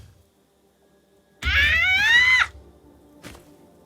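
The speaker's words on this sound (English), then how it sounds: "Sometimes her cats get rowdy in the middle of sessions." A cat lets out a single loud, drawn-out yowl lasting about a second in a quiet room, followed by a faint thump.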